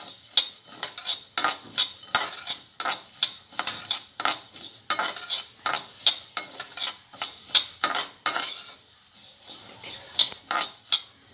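Spices for sambar powder are dry roasted in a pan, a steady run of close, crisp scraping and stirring strokes with light rattling, alone with no talk.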